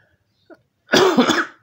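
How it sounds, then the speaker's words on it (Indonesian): A faint click, then a single harsh, throaty cough burst up close, short and loud in a quiet room. "Aduh, maaf batuk ya."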